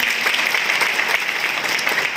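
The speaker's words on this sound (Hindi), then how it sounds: "आप सभी से निवेदन करूंगा कि जोरदार तालियां।" Loud applause from a crowd at a community youth organisation gathering, a sustained, even wash of many hands clapping.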